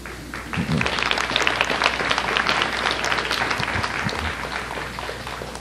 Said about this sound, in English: deserve a special round of applause for their awesome patience